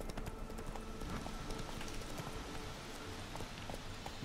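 Roach the horse gallops in The Witcher 3, hooves clip-clopping in a quick, steady rhythm close by, with no talk.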